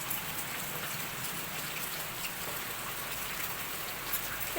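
Steady rain pours down outdoors, a dense even hiss with scattered drops pattering on surfaces throughout, fairly loud and constant with no voices.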